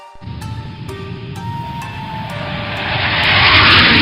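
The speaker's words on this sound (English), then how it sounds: "Would you like to go on a journey in a jumbo jet?" A large jumbo jet roars steadily, its engine noise building in loudness and brightness toward the end as if drawing nearer, with no voices.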